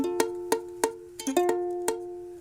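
Seven single ukulele strums ring out one after another, each chord with a sharp attack and quick decay, several sounding thin and partly muted where a finger mutes the strings.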